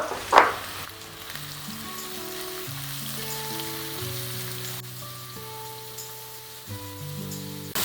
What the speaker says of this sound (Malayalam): ഉള്ളിയൊന്ന് നല്ല മുറുകി വരട്ടെ, എന്നിട്ട് കാണാം.